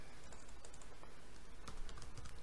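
Keys clicking in quick bursts on a computer keyboard as a Kali Linux terminal command is typed in, close and fairly quiet with a steady background hiss.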